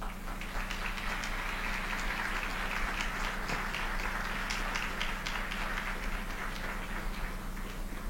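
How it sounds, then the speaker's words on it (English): An audience at a city council candidate forum applauds with dense, steady, rain-like clapping. It stays even and continuous for about eight seconds at a moderate distance, with no voices. "Now you can applaud."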